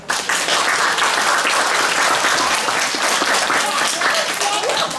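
An audience applauds performers on a stage in a newly opened hall, steady dense clapping that stays loud and even throughout, with a voice speaking over it.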